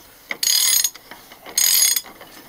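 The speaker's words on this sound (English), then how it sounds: "I'm going to put the initial torque on this nut" A ratchet tightens a nut on the brakes of a Freightliner FLD truck in two distinct bursts of rapid clicking, close and crisp, with quiet pauses between.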